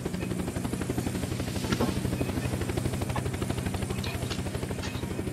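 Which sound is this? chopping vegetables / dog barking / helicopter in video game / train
helicopter in video game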